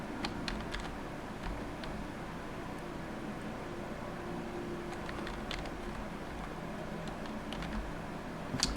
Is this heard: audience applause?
no